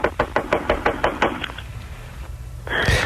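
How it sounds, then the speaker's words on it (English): About ten quick, even knocks rap on a door, close and crisp, then stop. A short louder bump or thud follows at the end. "Well, I'll just start with a knock."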